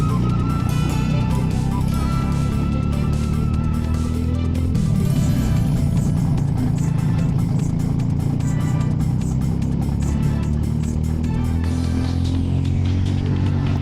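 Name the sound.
racing kart engines during race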